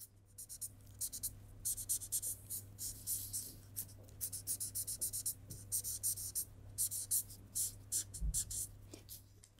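A pencil drawing straight lines on a paper pattern draft for a jacket with an asymmetric collar: close, dry scratchy strokes repeat steadily in short bursts, with no voices.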